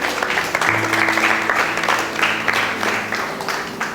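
Church congregation applauding together, a steady dense wash of clapping from many hands that holds evenly throughout, with a faint sustained tone underneath.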